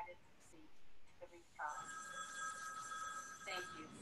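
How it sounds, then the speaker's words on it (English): A telephone rings faintly in the background, its call placed from a rephone kit, with a steady ringing tone and a brief break before another burst, distant and quiet beneath a low room hiss. "the telephone that you hear ringing in the background is actually my phone call that I'm dialing from the rephone kit."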